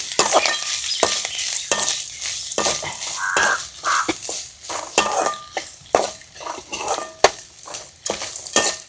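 Grated coconut and chana dal are dry-roasted and stirred in a village kitchen pan, with loud, rhythmic spatula scrapes and clanks repeating about once a second, close up.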